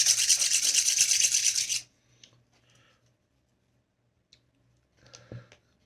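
Wooden disposable chopsticks rubbed briskly against each other to scrape off splinters, a loud close dry scraping for about two seconds, followed by quiet with a few small clicks and taps.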